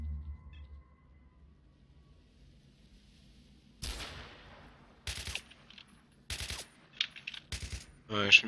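Gunfire in the video game S.T.A.L.K.E.R.: a quiet stretch, then a sharp shot with a decaying tail followed by several further bursts of shots at irregular intervals, loud and close.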